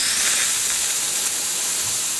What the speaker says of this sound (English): I'll just check the steam quick.